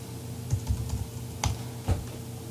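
Someone types answers on a computer keyboard, a few soft, irregular keystrokes close by over a steady low electrical hum.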